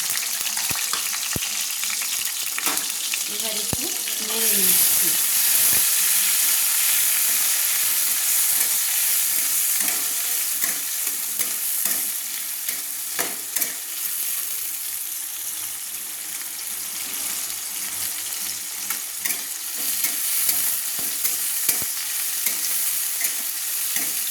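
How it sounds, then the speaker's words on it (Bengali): Chopped tomatoes hiss and sizzle steadily in hot oil in a wok, with repeated scraping stirs and clatter of a spatula throughout, fairly close and loud, with no talking. "কেটে কুচিয়ে রাখা টমেটো টুকরোগুলোকে কড়াইতে তুলে দিচ্ছি তেলের মধ্যে"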